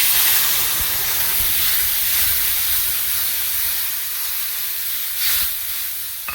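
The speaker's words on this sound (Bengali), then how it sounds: "এবার দিয়ে দিচ্ছি সর্ষে কাঁচা লঙ্কা, এটাতে বেটে রেখে দিয়েছি, দিয়ে দিচ্ছি তেলের উপরে" Ground mustard and green chili paste hitting hot oil in a pan, giving a steady loud hiss and sizzle that holds throughout with a brief surge near the end, no talking.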